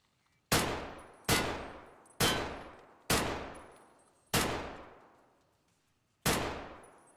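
Six separate shots from a VPO-209 assault carbine in Escape from Tarkov, fired one at a time at uneven intervals. Each loud, sharp crack trails off into a long ringing echo, with no voices.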